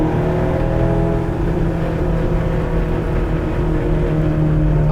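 A Honda S800 on the road, heard from inside the small car, gives a loud, steady engine drone with a low hum and road rumble that holds even throughout.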